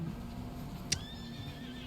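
A horse in the Red Dead Redemption 2 video game gives one short, sharp neigh that trails into a fainter whinny, over a steady low background rumble.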